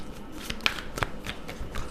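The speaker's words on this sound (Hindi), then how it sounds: "जब तक मैं शफल कर रही हूँ" Tarot cards being shuffled by hand, a soft papery riffle with a few sharper flicks spread over about two seconds, fairly quiet and close, with no talking.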